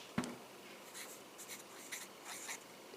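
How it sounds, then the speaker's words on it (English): A short, quiet run of pen strokes as a plant label is written by hand, opening with a sharp tap and followed by light scratchy scribbles close by. "Oh, it is pumice, but I'm gonna write gouge."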